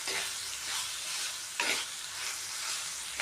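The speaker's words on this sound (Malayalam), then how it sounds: "ഇളക്കി ഒരുമിച്ച് കിടന്ന് വേവണം." Elephant foot yam and shallots sizzling as they fry in a pan, with steady hissing and two scraping stirs of a spoon, close and fairly loud with no voices.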